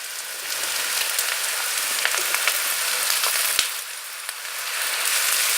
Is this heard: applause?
no